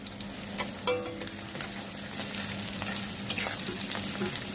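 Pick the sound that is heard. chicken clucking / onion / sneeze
onion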